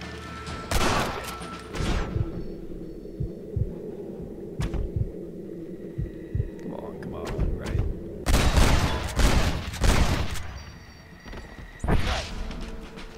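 Winchester rifle fired in the video game Red Dead Redemption: several loud, sharp shots in irregular bursts, with a heavy cluster of rapid reports near the end over steady in-game background noise.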